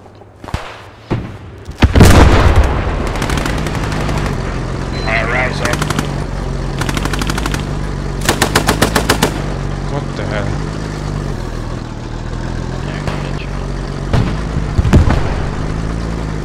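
Enemy machine gun fire in the WWII shooter Post Scriptum: a loud opening blast, then repeated rapid bursts of automatic fire and sharp single shots over a steady engine-like rumble, with voices talking throughout.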